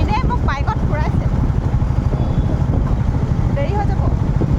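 Riding pillion on a motorbike gives a steady rumble of engine and wind roar throughout, with voices talking briefly over it at the start and again near the end.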